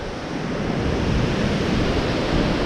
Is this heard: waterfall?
yes